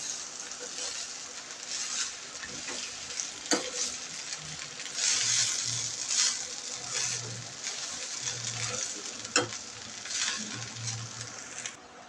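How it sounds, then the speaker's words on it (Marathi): Leftover chapati and rice are stirred in a frying pan over steady sizzling, with a spatula scraping and tapping the pan in irregular strokes, close up, while a voice talks at times. "याला पूर्ण पोळी भात याला पूर्ण मिक्स करून घ्यायचं छान"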